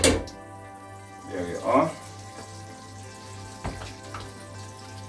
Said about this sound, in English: So I'll be going in the pot now with some butter.